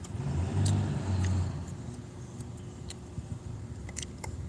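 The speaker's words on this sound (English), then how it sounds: "There's some rednecks behind me in a diesel truck." A diesel pickup truck's engine revs low and throaty behind a car on the road, swelling loudly for a moment before settling into a steadier rumble with faint clicks.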